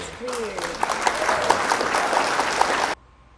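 A short burst of canned applause rings out, dense clapping for about three seconds that cuts off abruptly, with a voice briefly heard at the start.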